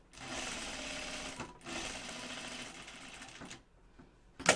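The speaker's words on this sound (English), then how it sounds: "I'm going to sew across the bottom opening and close that up." A sewing machine stitches across the bottom opening of a fabric face mask, a steady close whirring run that pauses briefly, resumes, then stops with a final clunk.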